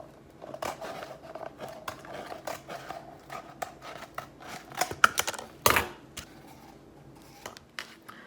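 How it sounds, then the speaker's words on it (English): Scissors snip around a cardboard toilet paper roll in a quick, irregular series of small crisp clicks and cuts, close and fairly quiet, with a louder scrape near the middle. "put your scissors into the slit and then cut all around it"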